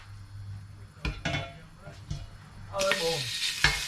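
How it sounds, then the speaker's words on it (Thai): A paste of coriander root, garlic and pepper is stirred in a spoonful of hot oil in a pot, with scraping stirs and a rising sizzle that swells near the end; a voice talks over it. "สามเกลือค่ะรากผักชีกระเทียมพริกไทยผัดจนหอมเลยนะคะ"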